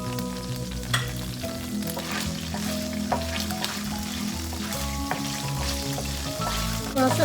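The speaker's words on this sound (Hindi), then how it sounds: "और इसके अंदर हम ये गरम मसाला डालेंगे जो साबित हमने लिया था।" Whole garam masala spices frying in about a cup of hot oil in a pan for shahi qorma, a steady loud sizzle with crackles and occasional stirring clinks.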